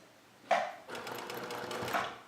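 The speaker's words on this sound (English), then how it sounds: "when you start and stop a stitch, just do a few, secure a few stitches in place" Sewing machine running in short bursts to lock stitches during free-motion quilting of a nine-patch, a sharp start followed by steady close mechanical stitching with no voices.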